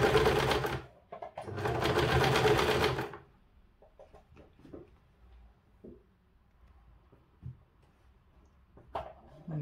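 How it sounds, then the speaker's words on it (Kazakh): A sewing machine stitches a skirt waistband in one loud, rapid close-up burst of about three seconds, then falls quiet except for soft handling clicks and rustles. "Ременді сәл ғана тартыңқырап тігіп отырамыз."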